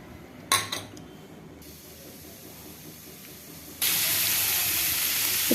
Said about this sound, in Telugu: బాణలీలో కొద్దిగా ఆయిల్ వేసుకొని మనం